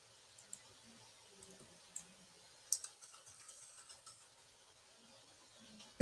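Typing on a computer keyboard, sparse clicks and taps scattered irregularly, fairly faint, with no one talking over them.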